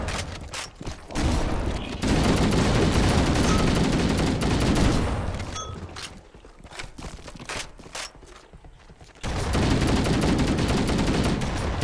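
Shotgun blasts and gunfire in the Halo video game against the Flood, heavy and loud bursts packed closely together, with a brief quieter lull before the firing resumes.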